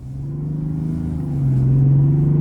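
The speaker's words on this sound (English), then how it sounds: "starting the test drive in this turbo diesel Sierra here, pretty strong engine" A 2025 GMC Sierra 1500 pickup with a Duramax turbo diesel engine, driving on the road with a close, steady low drone that swells louder as it accelerates, no talking.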